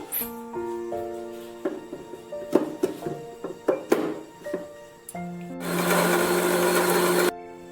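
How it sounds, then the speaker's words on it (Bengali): An electric mixer grinder purees ripe tomatoes into a paste. Some clinks and a tonal hum come first, then a loud, steady whir runs for about two seconds and cuts off abruptly. "টমেটোটা আমি পেস্ট করে নিচ্ছি"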